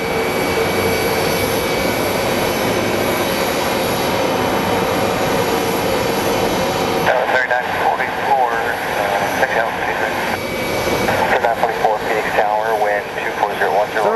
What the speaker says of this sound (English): Up next we're going to get Southwest 3944 coming in from Vegas